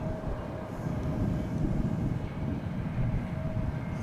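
An aircraft on a flight from Waco passes at DFW International Airport, a steady low rumbling roar that swells slightly and holds across the whole stretch, distant and unbroken, with no voices.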